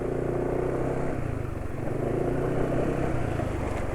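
A motorcycle engine running on MRC 10W40 oil idles with a steady, close, low rumble and faint clatter, its revs easing down evenly throughout.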